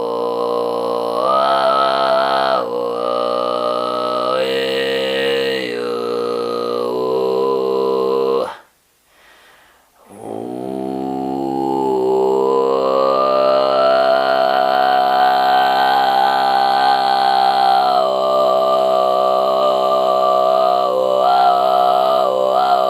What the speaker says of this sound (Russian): смог начать исполнять горловое пение Каргара, которое родом из Тувы